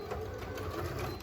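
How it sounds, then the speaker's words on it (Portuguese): A sewing machine stitching along the edge of fabric, running at a steady fast whirr with a rapid needle pulse, quiet and close, no voices. "vamos passar uma costurinha na beiradinha aqui"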